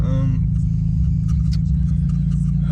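Engine of a 2013 Hyundai Genesis 2.0t with a boost gauge installed, idling with a steady low rumble and a brief rev at the start, heard close and loud.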